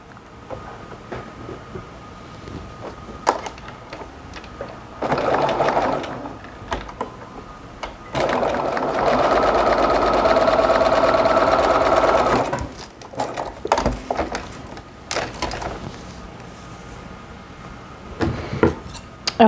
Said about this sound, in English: let's go ahead and baste stitch right along the edge here